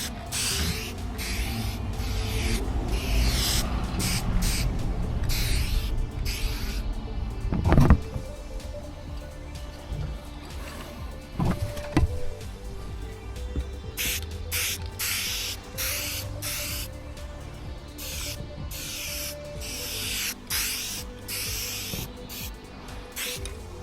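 Aerosol primer and paint spray from a can onto parts for a 3rd-gen 4Runner adjustable panhard rod build. There are repeated short hissing bursts with pauses between them, close to the microphone, with a few knocks and clatters in between.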